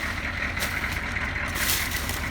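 A truck engine runs steadily at idle, a constant low rumble with a hissing air-like upper layer, close and even throughout without speech.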